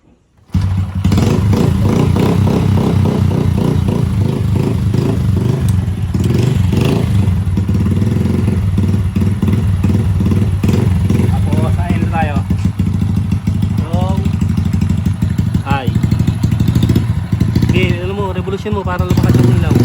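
Honda XRM 110 motorcycle engine revving hard and continuously, a loud, close, throbbing roar that rises and falls in pitch, with someone talking over it.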